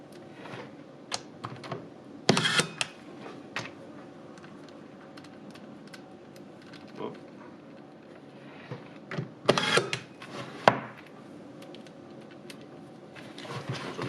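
Screws driven back into a power supply during a fan swap to a Noctua NF-A4x20, with quiet irregular clicks and short bursts of a torque-limiting screwdriver ratcheting, heard close and alone.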